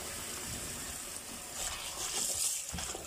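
Scent leaves being swished and rinsed in a generous amount of water, a continuous soft sloshing and splashing that swells louder toward the end.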